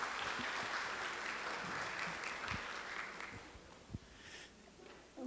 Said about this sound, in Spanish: Vamos a recibir con un fuerte voto de aplausos a nuestro invitado.